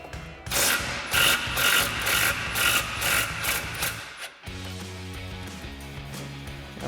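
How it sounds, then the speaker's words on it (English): An impact wrench with an 18mm socket, swivel adapter and extension hammers at an upper ball joint nut on an F-150 upper control arm, several loud rattling bursts in quick succession followed by a steadier mechanical whir, close by. "we can loosen up our upper ball joint nut for our upper control arm"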